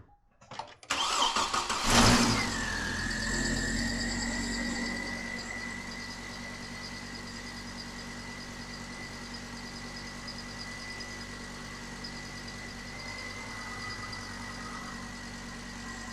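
Hummer H3 engine cranking and catching at about two seconds, then settling into a steady, fairly loud idle with a constant whine, running with the fan shroud removed after an alternator swap.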